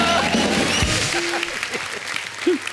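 Studio audience clapping on an Indian TV comedy talk show, a steady wash of applause filling the clip with brief voices and cheers poking through near the end.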